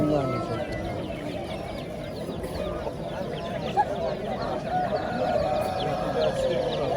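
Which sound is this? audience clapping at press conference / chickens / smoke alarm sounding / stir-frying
chickens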